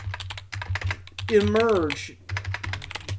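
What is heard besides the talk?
typing a command on a computer keyboard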